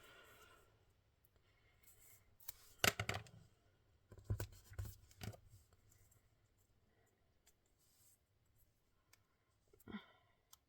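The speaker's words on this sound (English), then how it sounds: "Tearing tape." Sticky tape being torn off a roll while putting together a floral arrangement, heard as a few short, crackly ripping bursts in the middle with a quieter one near the end, and no voice over them.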